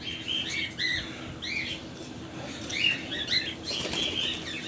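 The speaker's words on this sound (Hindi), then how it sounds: "देखें फ्लाइंग कर रही है, आपके सामने फ्लाइंग करके गई है।" Cockatiels flap their wings in bursts inside a breeding flight cage, fluttering close by, with soft chirps and squawks mixed in and no one speaking.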